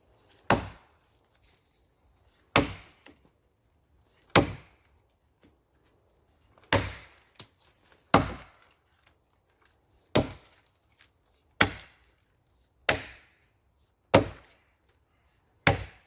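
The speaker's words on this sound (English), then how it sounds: "back in a minute when I've started chopping" Sharp wooden chops land one after another at steady intervals, about ten solid thwacks with brief silence between each blow.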